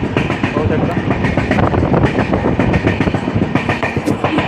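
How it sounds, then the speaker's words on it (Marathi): The Amravati SF Express slows near the Badnera workshop, giving a loud, close clickety-clack of wheels over rail joints and a constant rolling rumble, with a voice speaking over it. "थोडीशी गाडीची स्पीड स्लो झालेली आहे सध्या"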